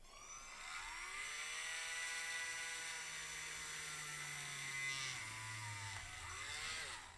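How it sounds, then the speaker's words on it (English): A power drill bores slowly into the center of a plastic toy, a steady high whine held for several seconds that dips in pitch toward the end as the bit slows, loud and close. "we're going to go ahead and drill in from the center"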